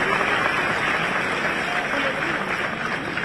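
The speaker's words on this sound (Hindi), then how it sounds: "एक बार फिर ताली बजा के स्वागत कीजिए।" Audience applause welcoming a speaker at a memorial national lecture in Bhopal, a steady dense wash of clapping that continues without a break.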